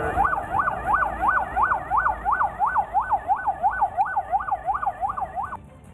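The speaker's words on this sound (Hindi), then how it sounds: "शहर का कोना कोना पुलिस की गाड़ियों के सायरन से गूंजता सुनाई दिया।" A police car siren wails in a fast rising-and-falling yelp, about fifteen regular cycles, loud and close, with faint traffic rumble underneath.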